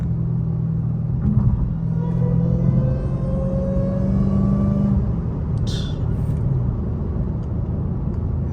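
A Dodge Challenger or Charger SRT Hellcat's supercharged engine rumbles and revs, with a rising supercharger whine climbing over a loud steady engine drone.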